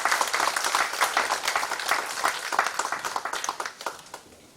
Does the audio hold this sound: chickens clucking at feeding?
no